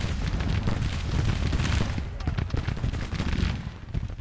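Dense volleys of musket and cannon fire in the Civil War strategy game Grand Tactician, continuous rolling crackle with heavy low booms, loud and sustained.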